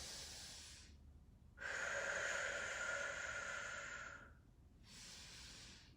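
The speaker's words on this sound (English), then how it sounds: "Breathe in through your nose, out through your mouth." Slow controlled breaths during a held bodyweight stretching exercise: a soft inhale, a pause, then a long, loud, airy exhale lasting over two seconds, followed by another quieter breath, close-miked and without speech.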